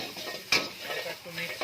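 Cabbage, carrot and onion stir-fried in a pan for chicken noodles, with a loud clatter of the spatula near the start followed by steady scraping, stirring and light sizzling.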